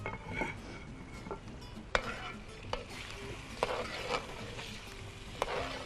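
Nihari meat with Malka masala is stirred and roasted in a pot, giving a soft, steady sizzle with scattered sharp clicks and scrapes from the spoon against the metal.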